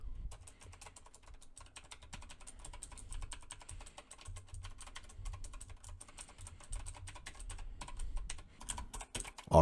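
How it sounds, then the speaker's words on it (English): Rapid, continuous clicking of keys on a computer keyboard, recorded through a FIFINE microphone, close and fairly quiet, with a low hum beneath and no talking. "test number two is going to be keyboard noise"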